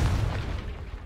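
Confringo spell blast in the video game Hogwarts Legacy: a loud, deep booming explosion with heavy low rumble that decays over about a second, with no talk over it.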